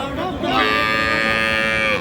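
A cow at a cattle market moos once in a long, loud, close bellow that holds steady for about two seconds.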